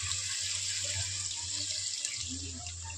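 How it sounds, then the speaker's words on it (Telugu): Water runs in a steady, close stream as it is poured into masala paste for a gravy, a continuous wash of sound that eases slightly near the end. "ఇప్పుడైతే మనం వాటర్ వేద్దాం, మసాలా వాటర్."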